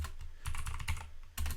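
Keys clatter on a computer keyboard while someone writes code for a Node.js project, giving close, continuous tapping in uneven bursts with brief pauses and no speech.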